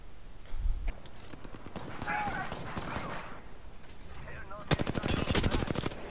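Gunfire in the video game Apex Legends, bursts of rapid automatic shots over a busy in-game background, the densest and loudest volley arriving near the end.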